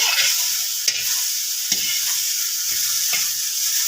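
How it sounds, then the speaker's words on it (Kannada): Okra fries in a pan, a bright steady sizzle broken by a few distinct stirring knocks and scrapes at irregular intervals, near and clear, nobody speaking. "ಈಗ ಇನ್ನೊಂದು ಸ್ವಲ್ಪ ಹುರಿದ್ಬಿಟ್ರೆ ಆಯ್ತು ರೀ ಬೆಂಡೆಕಾಯಿ ಹುರಿದಿದ್ದು"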